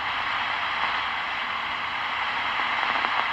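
Steady radio receiver hiss once a signal is added, a smooth, even noise often likened to steam, continuous and fairly loud with a few faint ticks near the end, no voices.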